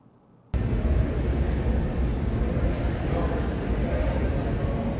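A New York City subway train rumbles loudly in a continuous low roar with a faint high whine on top. The noise cuts in abruptly after a brief quiet start and holds steady throughout.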